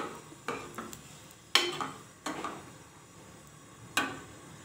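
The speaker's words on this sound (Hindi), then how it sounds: "चमचा चलाती रहे।" A metal spoon stirs tikka masala flavoured liver curry in a pot, giving several sharp scraping clinks at irregular intervals against a quiet background, close by and fairly faint.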